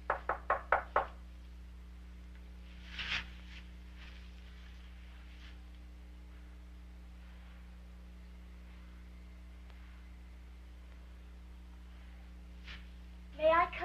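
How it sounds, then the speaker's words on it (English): Knocking on a door, a quick burst of four or five sharp raps, then a lone thump, a long quiet hum-filled stretch and another short double knock at the end, with no voices. "she finally gained enough courage to knock on my door"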